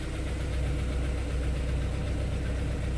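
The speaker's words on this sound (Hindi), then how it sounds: "हल्की क्लच छोड़ेंगे, हल्की रेस देंगे।" A car pulls off in first gear as the clutch is eased out, its engine giving a steady, fairly loud running drone up close for a few seconds with no talking.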